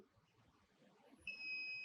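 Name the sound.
continuity beep of tester on mobile phone supply pins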